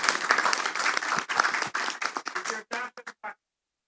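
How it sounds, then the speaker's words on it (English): An audience at a poker industry event claps and cheers, a loud burst of applause that thins out into a few scattered individual claps before stopping into silence. "Can we have a big cheer for that?"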